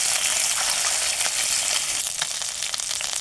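Fresh pond fish frying in hot oil for a cauliflower fish curry, giving a dense, steady close sizzle with constant crackle and no voices.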